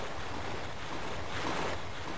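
Steady rushing river water in Robinson's Requiem, a continuous broadband wash of flowing current as the sun sets, with no voices over it.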